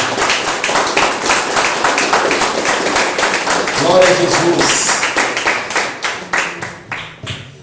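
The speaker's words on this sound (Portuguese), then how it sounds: "Vamos aplaudir o Senhor, irmãos." A church congregation claps in rhythm, steady loud beats filling the space for several seconds while a voice calls out midway, then the claps thin and fade toward the end.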